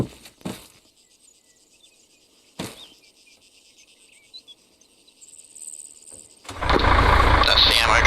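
Crickets chirp in a quiet outdoor scene with a few faint clicks before the ammo truck's engine in the video game Arma 3 starts up suddenly and roars loud and steady.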